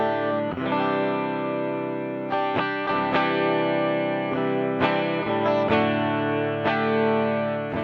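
Electric guitar through an MXR Rockman X100 pedal plays sustained, heavily compressed distorted chords with a lush chorus shimmer, changing chords several times, loud and upfront with no talking.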